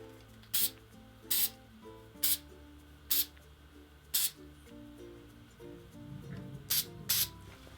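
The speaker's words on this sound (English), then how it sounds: "I like to use like a light hold, medium hold hairspray. The one that I just used is the Hold Me." Short bursts of light-to-medium hold hairspray from a Hold Me can, seven quick close sprays in an uneven rhythm, the last two nearly back to back, over faint background hum.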